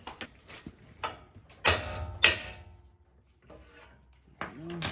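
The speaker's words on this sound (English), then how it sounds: "Probably gonna have to whack this one with a hammer." Two sharp metallic hammer whacks a beat apart on a tie rod end of a 2022 GMC Sierra ring out over quiet workshop clatter, with a few lighter knocks around them.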